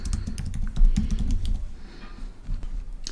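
Quick, light clicks of fingers typing on a computer keyboard, rapid irregular keystrokes close up with no talking.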